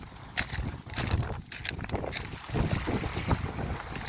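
Gusty wind buffets a microphone on a UK shoreline during a shore fishing session, a steady low rumble with irregular bursts and flutters that stay loud throughout, no talking.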